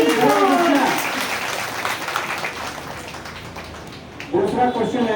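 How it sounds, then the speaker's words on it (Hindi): Audience at a devotional gathering clapping together, a dense, even patter of applause through the middle of the clip, with voices speaking at the start and again at the end. "तालियां बजाइए आपको।"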